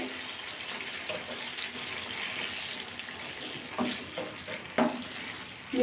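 Mixed fruit chutney stirred in a pan, giving a steady wet sizzling and swishing texture with a few soft scrapes and clinks toward the end, close and moderately quiet.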